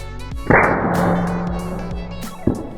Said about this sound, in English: Another precision shot from Tillman and straight through the neck